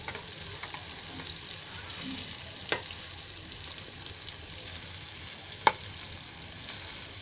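Rawas salmon fillets shallow fry in hot oil in a pan, a continuous soft sizzle with a few sharp clicks and taps as the pieces are gently turned over.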